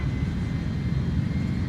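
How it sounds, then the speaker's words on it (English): Airbus A310 jet engines in Microsoft Flight Simulator 2020 hold a steady, loud, low rumbling roar that stays even and continuous throughout, with no voices. "I don't think I'm going to regret hearing these engines roar"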